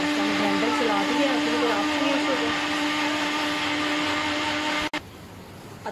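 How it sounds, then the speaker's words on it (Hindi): An electric mixer grinder runs steadily at home, churning a fish marinade with a loud, constant motor whine and hum for about five seconds, then cuts off abruptly and leaves only quiet room tone. "ग्राइंडर चला दिया"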